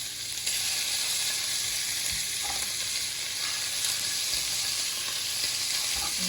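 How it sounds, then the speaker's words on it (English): Bite-sized bacon strips sizzle and fry steadily in a pan, a constant close crackling hiss with no talking. "I've cut my bacon into, like, I guess bite-sized pieces, strips or whatever, because I'm gonna brown this up."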